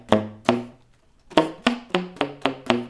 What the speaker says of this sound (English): I'm mainly doing a technique called slap tonguing.